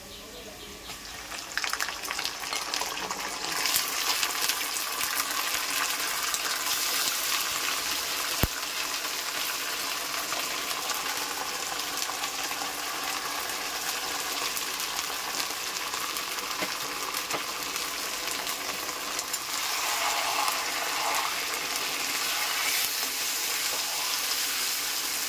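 Mutton sizzles steadily in a pan of browned onions, a continuous loud frying hiss with a faint stir partway through and no talking over it.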